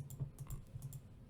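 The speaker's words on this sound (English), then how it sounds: "let me actually just type it instead of trying to do that" Keys clacking on a computer keyboard, a brief burst of quick, uneven taps close to the microphone with no talking.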